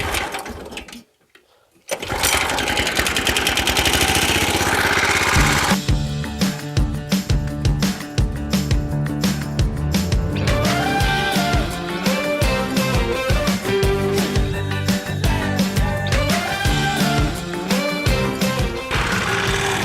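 A Toro Greensmaster 1000 reel mower runs on a lawn close by, its steady mechanical whir and rattling reel continuous after a brief quiet start, with occasional speech over it.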